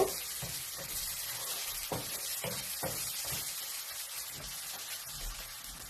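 Chopped tomatoes and shrimp fry in a pan for a shrimp bhuna, giving a steady, close sizzle with occasional soft knocks from stirring.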